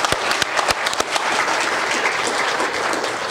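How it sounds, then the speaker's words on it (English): Audience applause at a Founders' Day awards gathering: a crowd claps steadily, with a few sharp near claps at the start settling into a dense, even patter for a few seconds. "So a round of applause for everybody today."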